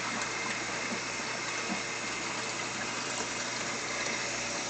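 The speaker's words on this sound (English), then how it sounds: "About the only noise that I get is the water coming out of the skimmer." Continuous rushing, splashing water flowing steadily out of an aquarium sump skimmer over a low external-pump hum, with no other sounds and no voices.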